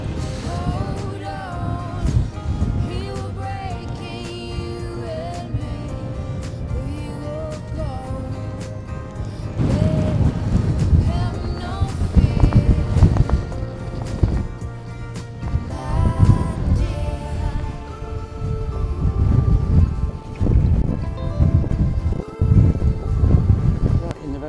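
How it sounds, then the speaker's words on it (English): Strong wind buffets the microphone on a circular beach walk near a marina and cliff tops, a constant loud roar rising in gusts, with a person talking and music playing beneath it. "I think this wind follows me around the country at the moment"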